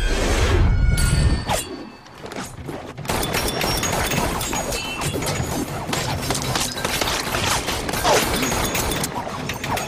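Rapid video game gunfire with very fast bullets: a dense, loud barrage of cracks and crashing impacts that briefly dips before pounding on continuously.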